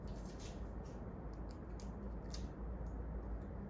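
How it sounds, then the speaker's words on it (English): A knife cuts off the end of a garlic clove, giving a few quick, crisp snipping clicks over low background hiss. The sound is close and quiet, with no voice. "cutting off the end, that allows you to peel it"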